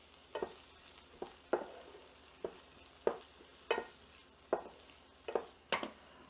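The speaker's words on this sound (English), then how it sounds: "And I'm going to sweat the onions." Onions sweating lightly in a pan with salt, heard as a faint sizzle under a regular series of close scraping and tapping stirs, about one every half second to second.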